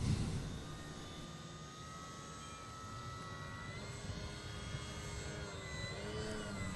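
An Extreme Flight 60-inch Edge 540T-EXP RC aerobatic airplane flies overhead, its steady motor and propeller drone sustained at moderate distance with slight pitch shifts during maneuvers.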